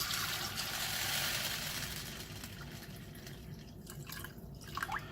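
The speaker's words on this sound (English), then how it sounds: "Now we'll soak it with water." Water runs and splashes steadily into a pressure cooker holding about a pound of chicken, a continuous broadband pour that eases slightly toward the end with a few small drips.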